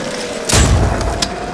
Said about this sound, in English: Mind you, that was a shotgun at a pretty far range.